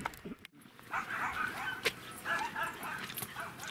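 A dog barks and whimpers in short yips and whines, fairly close, amid outdoor background noise at a summer apiary visit.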